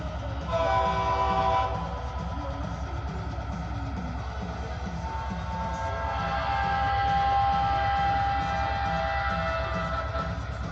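A CSX model train runs around a small loft layout, its steady rolling rumble with a rhythmic pulse filling the clip, joined by a sustained horn-like tone that swells in the middle, with no talk.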